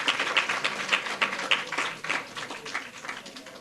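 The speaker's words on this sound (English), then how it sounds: "Let's have a round of applause for all our contestants" Light applause from a small audience at the St. Lucia secondary schools spelling bee, a steady patter of clapping throughout at moderate distance, with faint voices mixed in.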